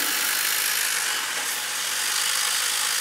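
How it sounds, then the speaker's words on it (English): A prop chainsaw with a spinning rubber blade whirs continuously on a horror film set, a steady, loud, hissing drone with no pauses. "A real chainsaw spinning and cutting sharp blade, the whole thing."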